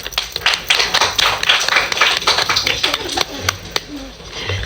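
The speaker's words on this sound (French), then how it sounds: "On peut les applaudir." Students applauding their best-behaved classmates at a classroom award ceremony, a lively burst of scattered hand claps with voices talking alongside and a bird cooing nearby.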